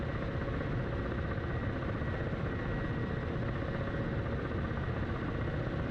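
A Ka-50 Black Shark 2 attack helicopter in a flight simulator game gives a steady, dense engine and rotor roar, continuous and unchanging, heard alone with no talk.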